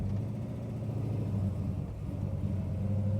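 A 525 horsepower big-block 1966 Chevrolet Chevelle pulling away from a green light, its engine rumbling as a steady, loud, deep roar that builds slightly.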